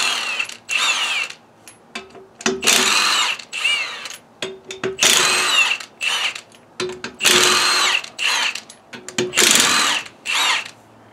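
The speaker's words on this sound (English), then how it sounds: "Now, where did I put my impact gun?" Impact gun working the lug nuts on the wheel of a 1960 Edsel Ranger two-door sedan, loud repeated bursts of hammering whir separated by short pauses, close up with no talk.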